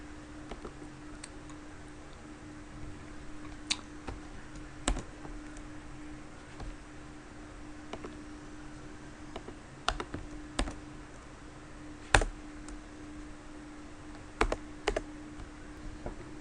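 Typing on a computer keyboard: sparse, quiet key clicks, some single and some in small bursts, spread irregularly over a faint steady hum.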